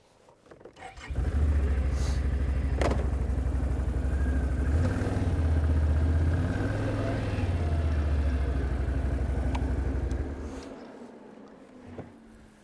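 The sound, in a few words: ATV engine pulling a log arch and chain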